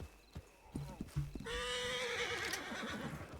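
A horse in the Red Dead Redemption 2 video game gives a loud, shrill whinny and then trots off with rapid hoofbeats, with some brief thuds before the neigh.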